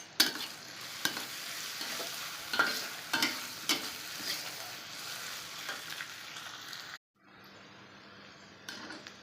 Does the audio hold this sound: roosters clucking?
no